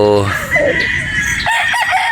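A game rooster crows loudly and nearby on a farm in Batangas: a strained, harmonic call that trails off into rough, scratchy clucking.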